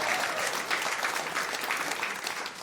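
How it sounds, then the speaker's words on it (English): Comedy club audience applauding a performer, a full, even burst of clapping from a crowd that holds steady and fades slightly at the end. "Give her a huge round of applause."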